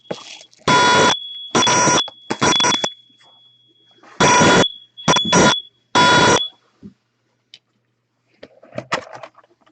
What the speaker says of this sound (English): It's the fire alarms going off.